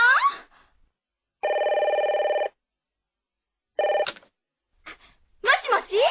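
An electronic telephone ring sounds in a long steady burst, then a shorter one, separated by silence, with voices speaking before and after in an animated radio-station scene.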